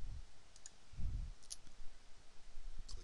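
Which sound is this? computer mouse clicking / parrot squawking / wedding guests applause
computer mouse clicking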